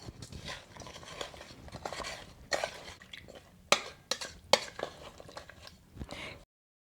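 A spoon stirs brown sugar and flour together in a pot for date bars, giving soft scraping with a few sharp clinks against the side, close and alone before falling silent.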